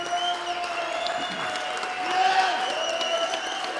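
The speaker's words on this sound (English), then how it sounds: "Could we get a measure of what round of applause is going to sound like in this venue?" A venue audience at the African Continental Tour final gives a sustained round of applause, dense and even throughout, swelling slightly near the middle, with faint voices or cheers mixed in.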